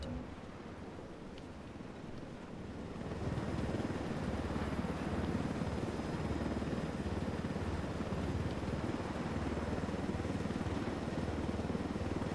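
Helicopter flying low through a canyon in Ghost Recon Wildlands: a steady, rumbling rotor and engine drone that swells louder after a few seconds and holds constant, with no talk.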